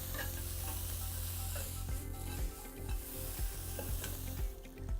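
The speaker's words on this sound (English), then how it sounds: "The sloped sides help you move the onions around so that you can really cook them quickly and easily." Onions sizzling and frying in a wok, a steady loud hiss with scraping stir strokes breaking through every half second or so, close and with no talking.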